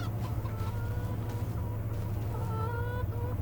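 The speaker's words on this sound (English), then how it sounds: "We've got 25 chickens in here right now, with 24 and one rooster." Chickens cluck in a coop in the Farming Simulator 25 video game, a flock of hens with one rooster making repeated short clucks over a steady low hum.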